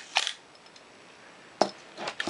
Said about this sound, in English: Let's watch the shutter from the back here.